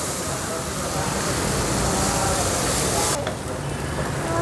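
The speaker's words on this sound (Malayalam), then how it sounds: "നന്നായി സോട്ട് ചെയ്ത് എടുക്കുക കേട്ടോ." Finely chopped tomatoes sauté in a hot pan with a steady, loud sizzle that never lets up, while a person talks throughout.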